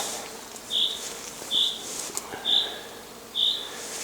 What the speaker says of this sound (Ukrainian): як підійшов до цього дерева, спочатку подумав, що гудить десь рій